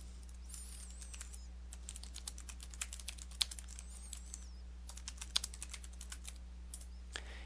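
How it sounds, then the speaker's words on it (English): Typing on a computer keyboard while entering a numbered list in OneNote 2013, a quick irregular run of light key clicks with a few sharper taps, close and fairly quiet over a steady low hum. "We'll start a new list here, and we'll type in 1, and a period, and then space."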